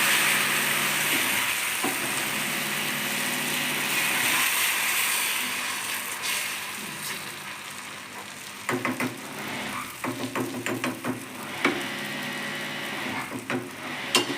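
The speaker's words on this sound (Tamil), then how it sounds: "தோசை ஊற்றிக்கலாங்க." Wheat flour dosa batter poured onto a hot oiled pan, a steady broad hiss of sizzling that gives way to scattered clicks and scraping knocks later, with no talking.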